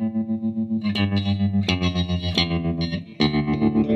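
Electric guitar played through a Fender Mustang GT40 amp on an effect preset, chords ringing with a chorus shimmer and light distortion, a few strums changing chords, loud and alone with no talking.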